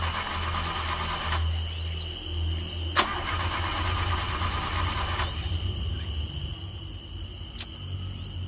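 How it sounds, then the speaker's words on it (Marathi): A car engine is cranked repeatedly at night without catching, steady close grinding of the starter broken by sharp clicks, with no talking. "अरे यार, गाडी पण स्टार्ट होत नाही."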